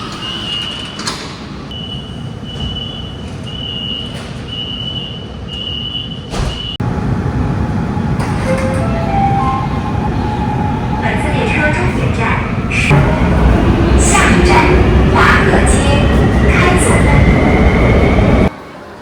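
A subway train in Guangzhou, China rumbles loudly along the tracks with a door chime and doors sliding, the roar building as it speeds up; people talk faintly.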